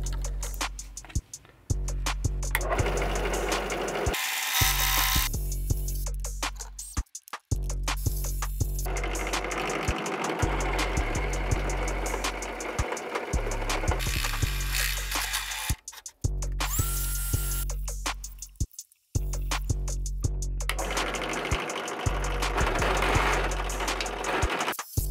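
A drill bores a 14 mm hole to a 12 mm depth stop, whirring loudly in repeated bursts separated by short pauses, close up and without speech.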